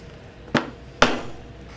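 A hammer strikes a nail twice while driving it home into wood during saddle work. The two sharp, close knocks are about half a second apart, with quiet around them and no voices.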